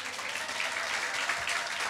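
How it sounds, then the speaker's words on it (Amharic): A church congregation at a prophet's sermon in Sharjah, UAE, breaks into brief applause, a dense steady wash of clapping under faint voices. "አጨብጭቡ ለዚህ ቃል።"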